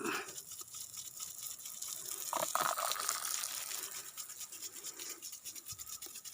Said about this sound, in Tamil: தண்ணி பாயுது